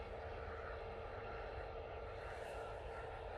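A Swiss Airbus A320neo arriving from Zurich at Manchester Airport gives a faint, steady jet engine whine and broad rumble heard from a distance, continuous throughout.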